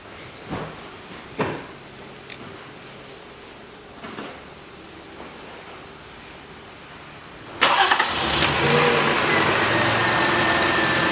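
A 2004 Toyota Harrier with a newly repaired starter: a few faint clicks and knocks, then the starter catches and the engine fires up loudly into a steady, even idle that runs to the end.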